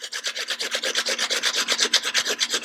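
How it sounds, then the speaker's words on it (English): Raw potatoes are grated by hand straight into a bowl, making a fast, even series of close scraping strokes, about twenty in quick rhythmic succession. "So grate your potatoes"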